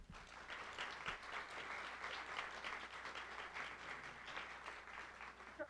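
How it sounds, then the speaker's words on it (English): Steady applause from the audience at a film festival, a continuous, fairly quiet patter of many hands clapping, heard without any voices. "So let's give a big hand to her."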